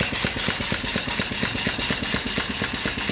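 An antique steam engine running off grid with its speed turned up, giving a fast, even chuffing and mechanical clatter, loud and continuous with no voices.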